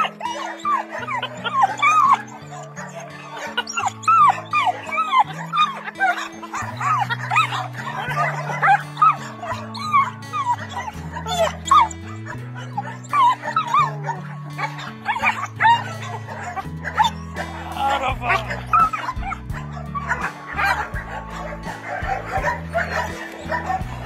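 A blind dog whimpers, yips and barks continuously on reuniting with the man who rescued it, near and loud, with excited whines layered over quick bark bursts throughout.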